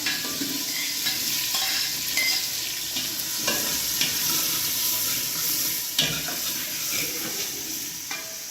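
Small onions (shallots) fry in a pan while a spoon stirs them, a steady sizzle with scraping stirs and faint water sounds in a Jaffna village kitchen. No one talks.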